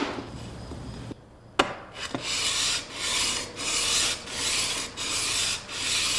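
A plane iron's back is lapped flat on sandpaper: after a brief pause and a sharp knock, close, rhythmic rasping strokes sweep back and forth about twice per second, steady and loud, with no speaking.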